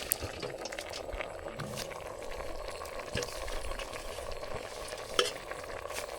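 Palak spinach stirred into bubbling dal and tomato in a pot, a soft, wet, steady simmer with faint stirring and one brief clink near the end.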